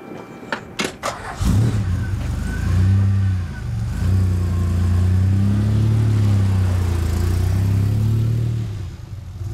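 A DeLorean and a Bricklin launch in a drag race, engines starting and revving hard with rising, sustained mid-pitched roars that hold loud and close.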